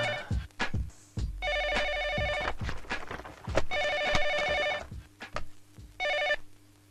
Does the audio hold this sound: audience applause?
no